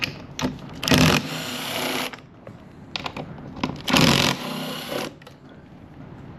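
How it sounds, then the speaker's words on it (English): A driver spins T40 screws out of a motorcycle top box bracket in a few short mechanical bursts, with two longer whirring runs, close by and with no one talking. "first we're going to take a T40, 1, 2, 3, 4 of these screws out."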